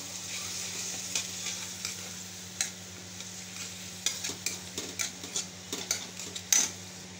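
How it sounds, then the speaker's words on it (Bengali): Masala is stir-fried in a pan with a little water, a soft steady sizzle under repeated scraping and clinking strokes of a spoon against the pan, close and moderately quiet. "এবার সামান্য একটু জল দেব, দিয়ে আবার মশলাটা একটু ভালো করে কষিয়ে নিচ্ছি"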